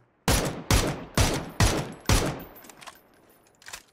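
Gunfire in the battle royale game PUBG: five sharp, loud shots evenly spaced about half a second apart, followed by a few fainter, more distant cracks as the burst trails off.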